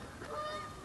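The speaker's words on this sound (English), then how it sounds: "I'd be remiss if we did not talk about the geese." Geese in Marshalltown give a faint, brief honk from a distance over a low background hum.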